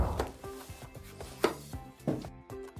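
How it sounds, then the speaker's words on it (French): A knife chops apples into large chunks on a cutting board, giving several sharp, close knocks at uneven intervals over light kitchen background sound. "on va éplucher les pommes et les couper"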